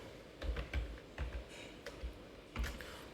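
Keys tapped on a computer keyboard while entering C program code, soft irregular clicks in short bursts, quiet and close.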